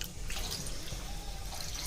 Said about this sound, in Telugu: ఇప్పుడు మనము వాటర్ వేసుకుందాం